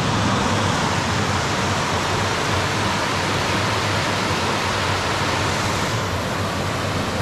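Water gushing steadily out of a culvert, a dense continuous rushing roar with no pauses, loud and close throughout.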